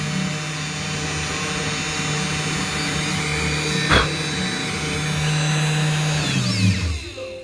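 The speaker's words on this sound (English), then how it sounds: "But this little spindle seems to be doing real good." A small spindle on a Genmitsu 4040 Pro CNC machine whines steadily while cutting a tiny test job, with a sharp click midway and the pitch falling as it spins down at the end.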